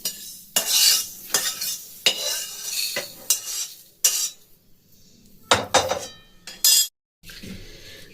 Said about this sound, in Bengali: এগুলো ভাজা হয়ে গেছে আমি এখন ঢেলে নিচ্ছি একটা জায়গায়